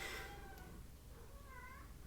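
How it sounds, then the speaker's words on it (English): A cat meows a few times from somewhere outside, faint and a little distant, with drawn-out wavering cries against a quiet room background. "I don't know if you can hear that. She is meowing."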